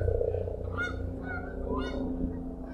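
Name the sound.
geese honking while flying in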